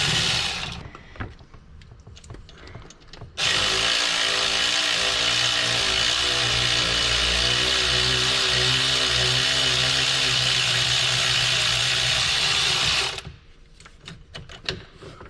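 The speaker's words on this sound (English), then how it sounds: "so that way I can use my electric ratchet" An electric ratchet with a 3/8 adapter removes alternator bolts on a Saturn Outlook, whirring loudly and continuously for about ten seconds, with quieter clicks and handling noises before and after.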